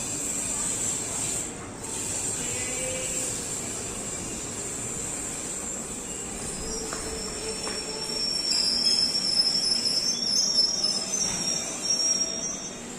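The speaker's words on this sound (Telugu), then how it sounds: "కోనార్క్ ఎక్స్ప్రెస్ స్టేషన్ నుంచి డిపార్ట్ చేసేసింది" Konark Express pulling out of Kazipet railway station, a steady broadband rumble with high wheel squeal and hiss that swells louder in the last few seconds, no voices.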